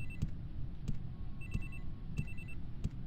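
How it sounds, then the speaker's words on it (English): A phone rings inside a creepy building in the VR horror game Alone?, played on an HTC Vive. Several short repeating ring bursts sound faint and distant over a low ambient rumble, with no talking. "A mobile phone or something is ringing."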